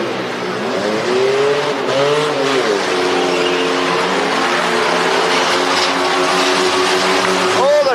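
Rear-wheel drive truck racing on a course at a Kings Court event, engines roaring loud and steady with tire squeal rising and falling throughout, and faint crowd or commentator voices mixed underneath.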